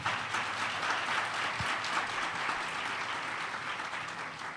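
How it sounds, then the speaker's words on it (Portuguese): An audience at a lecture on ideology and language claps in steady, sustained applause, a dense even patter of many hands at moderate volume, with one low thump partway through. "palmas"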